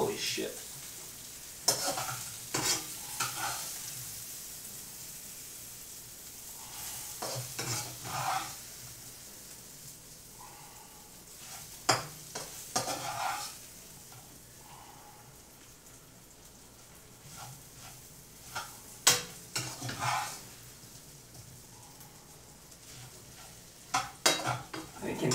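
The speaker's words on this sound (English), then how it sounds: "I can hear that roux cooking." Roux cooking in a pan for a New Orleans-style dish, with a soft continuous sizzle and frequent scraping stirs from a utensil, some sharp clatters against the pan, close and fairly quiet, with no talk.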